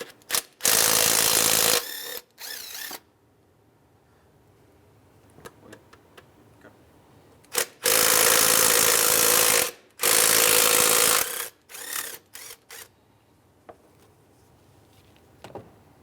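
Removing 10 mm bracket bolts during throttle body work on a 2003-2011 Honda Element: loud, sustained bursts of rapid mechanical rattling, likely a power ratchet, come in several runs separated by quieter ticks and small clicks; no talking.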